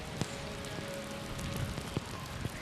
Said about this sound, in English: rain continues to batter the pitch right now.